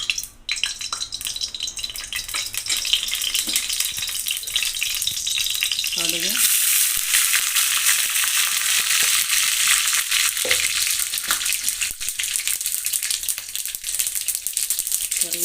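Mustard seeds crackle and spit in a little hot oil for a tempering, with a loud, dense sizzle and popping that swells after a few seconds, plus occasional utensil clinks and no talking.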